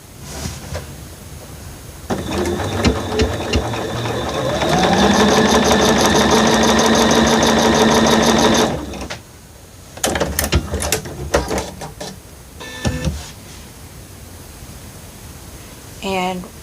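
A sewing machine stitches a diagonal seam across quilt block fabric for a pressed flowers block, a close motor whir with rapid needle ticking for several seconds, followed by scattered handling clatter and brief mechanical bursts.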